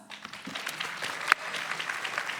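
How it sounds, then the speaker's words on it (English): Audience applause at a university startup pitch competition finals, a steady wash of clapping from a crowd that holds for a couple of seconds with one sharper clap standing out near the middle. "round of applause"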